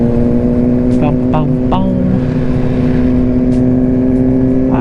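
A Ducati Streetfighter V2 motorcycle engine runs loud and close, holding a steady heavy drone with brief rev blips near the start, while a rider's voice is heard over it.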